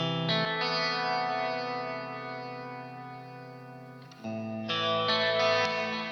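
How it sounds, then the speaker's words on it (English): Electric guitar run through delay and reverb from a Lasse Lammert STL Tonality plugin, sustained chords ringing with a chorused, slightly distorted sheen, a brief dip and re-strike near the end, echoes trailing under continuous playing. "And then I use the delay and reverb from Lasse's Tonality."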